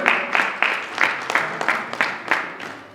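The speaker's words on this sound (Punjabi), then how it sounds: "ਜ਼ੋਰਦਾਰ ਤਾਲੀਆਂ ਵੱਜਦੀਆਂ ਰਹਿਣ।" Loud, sustained applause fills a pastors association meeting, with sharp bursts of clapping rising and falling in a steady rhythm from a close, enthusiastic crowd.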